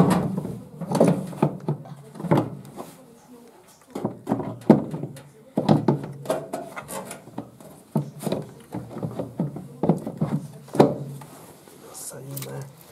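Fitting a motor into an Indesit washing machine under repair: irregular knocks, thunks and scraping of metal parts being set in place, close and moderately loud, with occasional talk between them.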